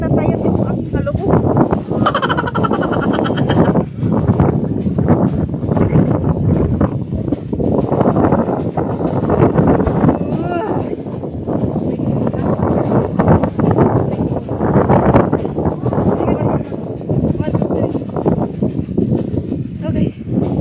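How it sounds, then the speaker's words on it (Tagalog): Strong wind gusts buffet the microphone on a challenging mountain hike, a loud, continuous rumbling roar with people talking through it. "Ganito kasarap ng hangin."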